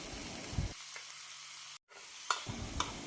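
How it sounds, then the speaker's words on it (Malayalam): Onion, green chilli and curry leaves sizzle in hot oil for a vegetable kurma tempering, with close stirring scrapes over a steady frying hiss that briefly cuts out and then resumes. "താളിച്ചിടുന്നത് സവാള, പച്ചമുളക്, കറിവേപ്പില കൊണ്ടാണ്."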